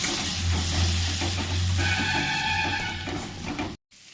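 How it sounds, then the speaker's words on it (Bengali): Ground spice paste sizzles and hisses steadily in hot oil over tempered nigella seeds while being stirred for a cauliflower and fish curry. The frying is close and continuous, then drops out abruptly near the end. "ফোড়নটা ভাজা হয়ে গেলে বেটে রাখা মশলার পেস্টটা দিয়ে একটু ভালো করে মশলাটা"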